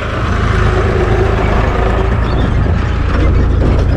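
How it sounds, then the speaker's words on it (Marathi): Steady low engine rumble of vehicles moving past on a road under construction in a Konkan village, continuous and fairly close, with no talk. "गाड्या चालू आहेत"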